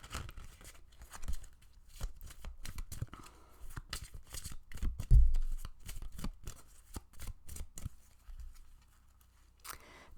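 Tarot cards are shuffled and drawn in a steady run of crisp riffles and flicks, close and fairly quiet, with a louder slap near the middle and no speech.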